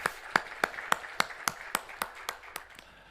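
A church congregation claps during a Sunday morning worship service, giving about a dozen evenly spaced, crisp claps in a steady rhythm that sound fairly close.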